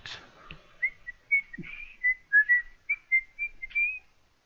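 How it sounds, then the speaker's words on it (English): A person whistles a wandering tune in short, clear, melodic notes with small pauses, close and alone, during a Dwarf Fortress playthrough. "You must like whistling in Let's Plays."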